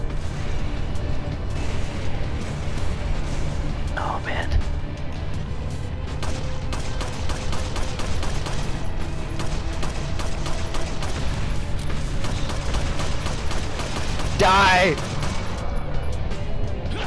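Leon fires his gun in Resident Evil 4 again and again, a long run of evenly spaced loud shots with a few mechanical clicks and effects mixed in.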